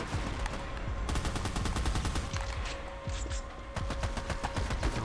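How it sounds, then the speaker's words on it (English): Sustained rapid fire from a chain gun in the video game Army of Two, a dense rattling stream of shots in long bursts with brief pauses, moderately loud against steady background noise. "And I'm using a freaking chain gun."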